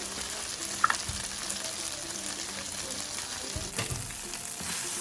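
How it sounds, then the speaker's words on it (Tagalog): Potatoes and eggs fry in a pan with a continuous crackling sizzle while a utensil scrapes and stirs, a couple of brief knocks standing out. "Stir it."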